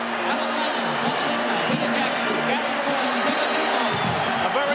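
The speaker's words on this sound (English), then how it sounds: "The King leads the Maroons onto Lang Park. And the crowd rises to the occasion." A rugby league stadium crowd at Lang Park roars as the Queensland Maroons run onto the field in 1990, a steady wall of cheering under continuous commentary.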